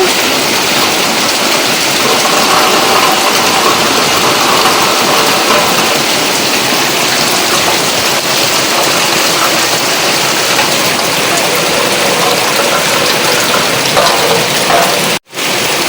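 Heavy rain pours down outside a rural home, a dense, steady roar of water that holds at the same loud level throughout, with only a brief dropout just before the end.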